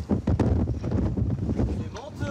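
Strong gusty wind buffets the microphone on a cruise ship deck in chilly summer weather, a continuous loud roar and rumble with faint voices underneath.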